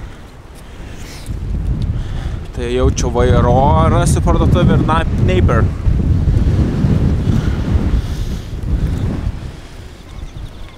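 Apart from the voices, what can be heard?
strong wind on a windy, cool day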